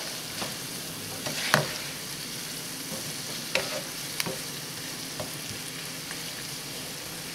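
Vegetables simmer and sizzle in a curry for chicken and potatoes, a steady low frying hiss with a few sharp spoon taps and scrapes against the pot, quiet and with no speech.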